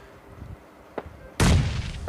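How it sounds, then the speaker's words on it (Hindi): A grenade explodes in a battle royale shooter: a faint thump comes first, then a loud, broad blast that lingers for nearly a second before fading, close and harsh, with no talk over it. "एक और ग्रेनेड निकालते हैं और ये मारते हैं।"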